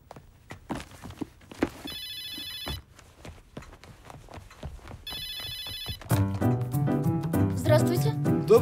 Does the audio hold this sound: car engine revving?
no